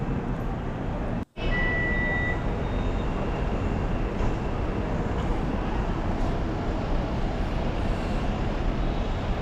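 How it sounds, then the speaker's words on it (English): Vehicles idling and moving through the bus area at NAIA Terminal 3, a steady dense traffic rumble with a short high reversing beep near the start. "So this is the bus area now at Terminal 3."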